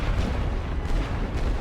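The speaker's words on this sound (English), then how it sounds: "Oh, there's some artillery guns." Artillery guns fire in the World War I game Elite Great War Western Front, a continuous low rumbling boom with distant thuds, heavy and steady throughout.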